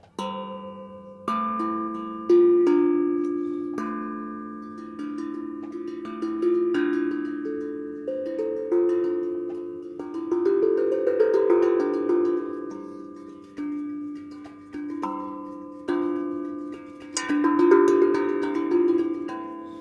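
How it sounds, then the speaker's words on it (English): Mellow, ringing metallic tones of a steel tongue drum played in a slow melodic sequence, each note sustaining and overlapping, heard alone without voices. "It's called a steel tongue drum. And this is what it sounds like."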